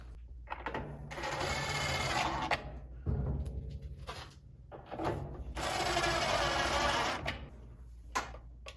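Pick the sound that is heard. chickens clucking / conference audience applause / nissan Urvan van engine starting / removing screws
removing screws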